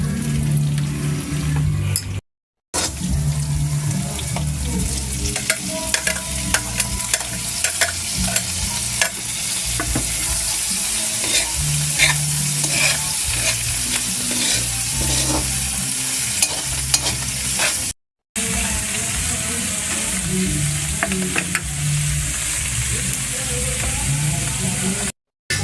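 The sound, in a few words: carbonara being cooked and stirred in a pan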